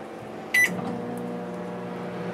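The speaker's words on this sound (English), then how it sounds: "I've got one of these flour tortillas in the microwave" A microwave oven heating a flour tortilla: a short beep marks the start, followed by a steady, low, humming drone that continues evenly at close range.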